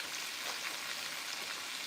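Chicken pieces fry in hot oil, giving a steady, dense sizzle and crackle that holds at an even level throughout, with no talking.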